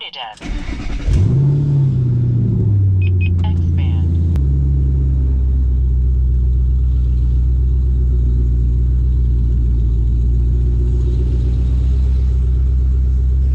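A Ford Mustang drift car's engine starts with a brief rev, then settles into a steady low rumble that continues, loud and close, as it drives around the block.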